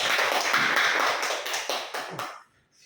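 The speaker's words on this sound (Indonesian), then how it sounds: "Tepuk tangan dulu untuk media" A middle-school math class bursts into lively clapping, a string of quick, crisp hand claps that runs for over two seconds and then stops sharply into near silence.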